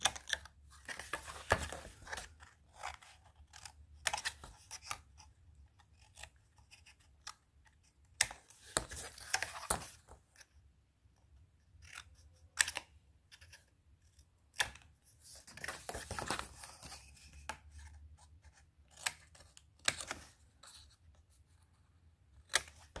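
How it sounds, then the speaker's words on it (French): Scissors snip and slice through paper on a diagonal during an Advent calendar papercraft project, heard as scattered short cutting bursts, fairly quiet and close, with pauses between cuts and no talking. "Là, je viens couper droit en biais."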